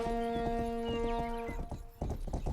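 Hoofbeats of a police horse in the video game Rustler, a steady clip-clop of several close, loud strikes over a droning musical background, pausing briefly near the end before resuming.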